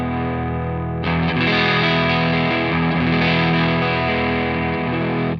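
An electric guitar runs through a B.K. Tube Driver distortion pedal with the drive about a quarter up, a sustained compressed, hairy chord ringing then restruck and held before cutting off, played alone.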